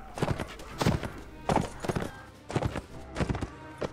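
Horse hooves clip-clop in the medieval combat video game Mount and Blade, a steady run of paired, thudding hoofbeats at an even walking pace, fairly close and clear.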